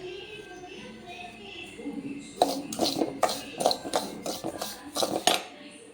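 Semolina being stirred and roasted in ghee in a pan for Kanchipuram-style rava pongal, with a run of sharp spoon-against-pan scrapes and clinks starting midway, close and fairly loud over a low background.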